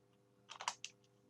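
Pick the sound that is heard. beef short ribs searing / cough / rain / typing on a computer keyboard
typing on a computer keyboard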